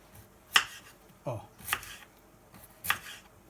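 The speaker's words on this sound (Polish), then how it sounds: "Kroję takie grubsze plastry." A few separate knife cuts through beetroot into thick slices, each a sharp crisp slice landing on a board, spaced about a second apart in a quiet room.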